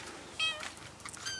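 A cat gives a short, faint meow, then a couple of softer mewing sounds, in a quiet room with low background noise and no talk.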